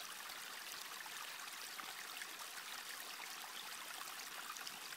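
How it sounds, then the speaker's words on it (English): A forest creek in the foggy Dolomites flows with a continuous bright hiss and trickle, even and fairly faint, with no voices. "this creek, where you can hear the one of the most beautiful sounds in the world"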